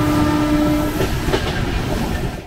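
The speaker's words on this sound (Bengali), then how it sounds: "এই জন্য হর্নের আওয়াজটা খুব জোরে আসছে এই বগিতে" Heard from inside the first coach right behind the engine of an Indian passenger train, a loud horn blast sounds for under a second and then fades into heavy rumbling and rail clatter.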